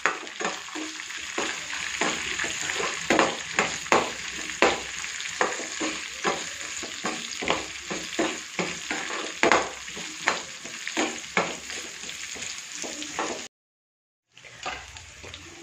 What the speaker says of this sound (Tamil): இப்போ வெங்காயம் போட்டுக்கலாம், பச்சை மிளகாயும் போட்டுக்கலாம்.